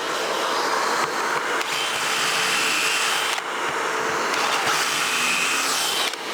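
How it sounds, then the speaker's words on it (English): Dust collection vacuum running continuously on a power tool during board and batten wall work, a loud, steady broadband roar with slight dips in pitch, close up and without voices. "the dust collection is definitely working. I can hear it. And it's really sucking."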